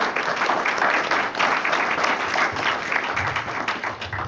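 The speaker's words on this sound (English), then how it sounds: "I will tell her spontaneous applause upon mentioning her name." An audience at a political campaign event in Mentor, Ohio breaks into loud, sustained applause, a dense wash of clapping filling the room from start to finish.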